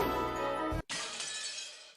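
Glass shatters in the visual novel game Umineko When They Cry: a dense, bright crash cuts off abruptly and gives way to a scattering spray of falling shards that fades over about a second, with no talk.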